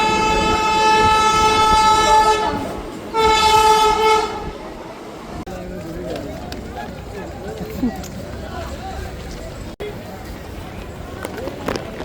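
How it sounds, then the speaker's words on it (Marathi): A train horn sounds loud and close in two long blasts, then a rolling rail rumble with passing carriages as the train pulls into a station at Saphale; a voice talks over it. "बाय द वे ट्रेन आली आहे आता"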